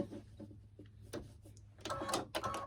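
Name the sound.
sewing machine stitching houndstooth fabric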